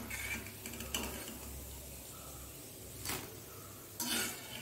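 Fried bitter gourd and curry leaves are lifted from a pan of hot oil in a Mangalore-style fry. A few close metallic scrapes and clinks cut through a steady background sizzle.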